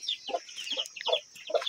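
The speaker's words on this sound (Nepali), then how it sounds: "भर्खरै नयाँ निक्लेका चल्लाहरू, काला सेता रङ्गी बिरङ्गाहरू छन् है।" Close hen clucks and high chick peeps in quick bursts from a hen with newly hatched black, white and multicoloured chicks at a village home, with no talking.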